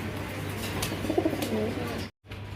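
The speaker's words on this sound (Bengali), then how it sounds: "আর এটা হলো নিয়রেল কবুতর" Fancy pigeons coo softly and nearby in a short, low murmuring call, with background hum around them before a brief gap.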